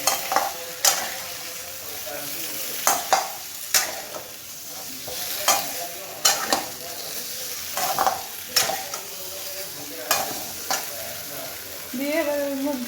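Potato curry for niramish aloor dum frying in a pan with a splash of water, stirred with a utensil that gives repeated scraping strokes and sharp clinks against the pan over a steady sizzle, close and clear, no talking.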